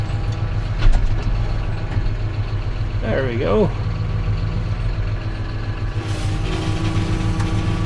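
A tractor engine idles and pulls steadily while towing a heavy trailer, a low continuous rumble held throughout, with brief talk over it.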